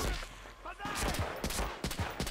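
Gunfire in the Medal of Honor Rising Sun video game, several sharp bursts of shots in quick succession over a noisy battle backdrop, fairly close and moderately loud.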